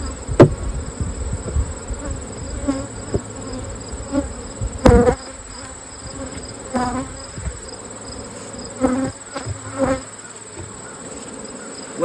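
Honey bees swarm around an open hive during a honeyflow, a dense continuous buzz close by, broken by a few sharp wooden knocks and clunks of hive equipment.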